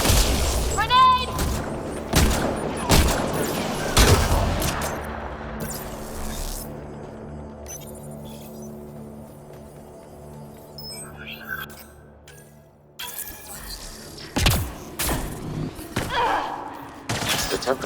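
Heavy blasts and thuds of combat in Mass Effect Andromeda, with a grenade detonating amid gunfire, followed by a long low rumbling decay and more impacts near the end, with voices speaking over the action.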